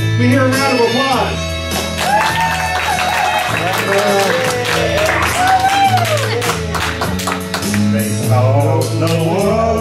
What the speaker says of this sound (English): we hear a round of applause.